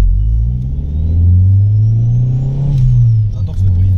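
A tuned 1.8T car engine of about 500 hp revs loudly up and down, a deep rumbling drone rising in pitch then easing off, close by and continuous.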